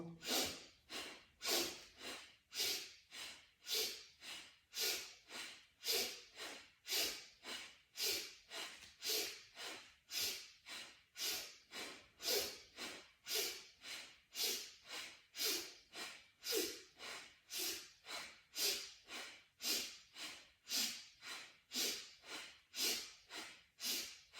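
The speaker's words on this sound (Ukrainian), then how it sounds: "Дихаємо, робимо цю вправу носом." Rapid rhythmic nasal breathing during a morning breathing exercise, sharp sniffing inhales and exhales repeating steadily about twice per second, close and continuous with no talk.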